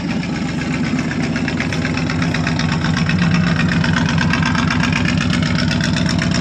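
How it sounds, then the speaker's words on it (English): A 1959 Buick Electra with a 401 Nailhead V8 idles with a deep, even burble from the exhaust, steady and close, with no voices. "Listen to that exhaust."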